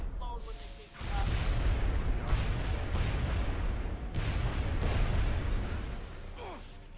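A robot explodes in the XCOM: Enemy Within strategy game, a loud sustained rumbling blast that roars for several seconds after a brief quieter lead-in, with dense crackling debris throughout.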